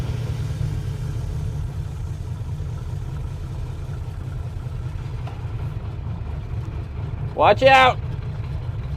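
An old car that sat unused for 30 years runs while being driven, its engine a steady low rumble throughout, with a brief shout breaking in near the end.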